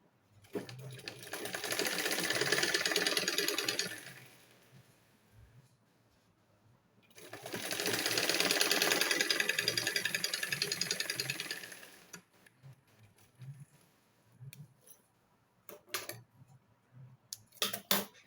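An electric sewing machine stitching folded fabric for an aso-oke hair piece, running in two steady whirring bursts of several seconds each with a pause between, then quiet handling clicks; no talking.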